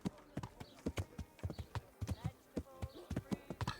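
Horse hooves clip-clopping in the medieval game Kingdom Come: Deliverance, a close, steady walking rhythm of sharp knocks on hard ground, continuing throughout.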